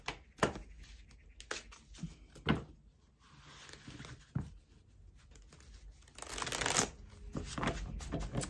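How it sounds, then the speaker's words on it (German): A deck of tarot-style cards being shuffled by hand in bursts of riffling and sliding, with brief pauses between rounds, close and moderately loud with no talk. "So, und wir werden jetzt mal die Karten mischen."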